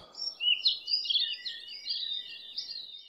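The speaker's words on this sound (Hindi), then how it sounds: "मोर झनकारते थे पपीहा गुल मचा रहा था" Peacocks and a hawk-cuckoo (papiha) call in the monsoon, heard as a continuous run of high, warbling chirps and whistles. The calls sound fairly close and clear, with no talking.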